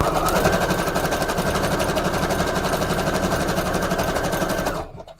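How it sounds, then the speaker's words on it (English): A sewing machine runs a zigzag stitch in one steady burst, a fast, even mechanical rattle close by for about five seconds before stopping abruptly, with no talking. "Let me just do a zigzag stitch on this one."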